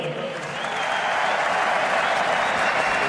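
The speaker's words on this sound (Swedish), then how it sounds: "En varm applåd för Yvonne" Warm applause from a crowd at Malmö FF's gold ceremony, a dense, steady clapping that builds slightly and holds loud throughout.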